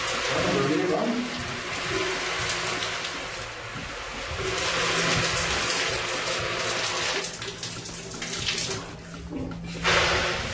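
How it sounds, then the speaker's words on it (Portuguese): Shower water runs steadily at night as a boy stands under it, a continuous broad hiss with splashing surges, with faint voices partly audible beneath the spray. "Em menos de 2 horas, é a segunda vez que Kevin entra no chuveiro"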